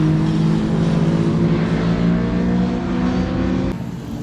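Motorcycles, including a Honda Deauville 700, lapping a desert race track in Spain, a steady loud engine drone with shifting pitch as bikes ride close by, easing slightly at the end.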